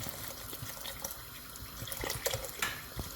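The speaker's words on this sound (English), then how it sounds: "got a 2 litre bottle of mineral water here. So in that goes." Bottled mineral water, two litres, pours steadily into a cooking pot, a continuous close splashing and gurgling stream with a few brighter splashes near the end.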